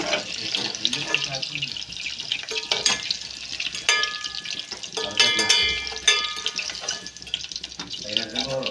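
Soya chunks frying in small batches in a pan sizzle and bubble close by, with scattered scrapes and clicks of a utensil and a running-water hiss underneath.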